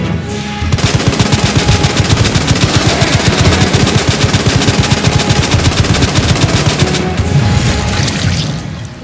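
Sustained automatic gunfire in Resident Evil 2 during a boss fight with infinite ammo, a loud continuous rapid stream of shots lasting several seconds before cutting off.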